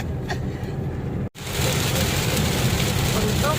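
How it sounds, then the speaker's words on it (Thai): Steady rain falling on a surface, a dense continuous hiss that briefly cuts out and then resumes louder, with a low rumble underneath. "ฝนตก"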